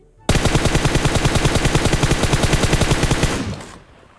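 Automatic gunfire from a sustained spray in a shooter video game, one loud, rapid, evenly spaced burst lasting about three seconds before cutting off, with no talk over it.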